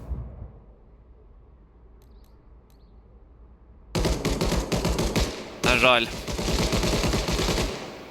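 Rapid bursts of gunfire in the video game Arma Reforger erupt after a quiet stretch, with a brief sharp whistling sweep in the middle and a voice speaking briefly.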